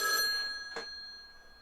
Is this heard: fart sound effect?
no